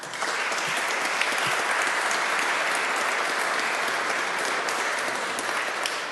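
Sustained audience applause at a Chilean environmental justice seminar, a dense, steady wash of many hands clapping at even loudness throughout, with no speech over it.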